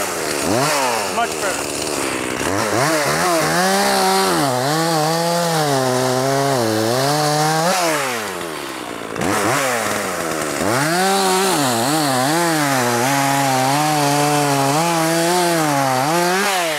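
An Echo 4310SX chainsaw topping out a red oak for firewood, engine loud and close, revving up and down in repeated waves with a brief dip near the middle.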